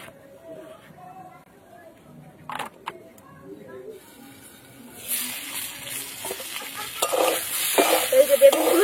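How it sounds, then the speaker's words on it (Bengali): Eggplant pieces fry in a pan. Quiet kitchen handling and talking come first, then a loud, close sizzle of oil that swells and crackles through the second half. "এই বেগুনগুলো এবার ভেজে নেবো ভালো করে"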